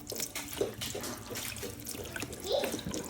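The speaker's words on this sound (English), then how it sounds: "Add some stock." Stock is poured into a stock pot holding wild hog pieces, onions and liquids, a soft continuous splashing and trickling pour close by with small gurgles.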